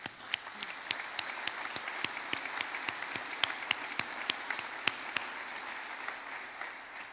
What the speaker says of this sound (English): that's worth us clapping, I think, at this stage